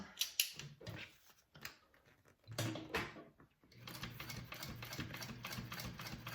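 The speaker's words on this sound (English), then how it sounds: "I am going to top stitch this shut now along the top" A sewing machine top stitches the flap of a Bellezza handbag shut, starting with a few short, stop-start bursts before settling into a steady, continuous run of stitching close by.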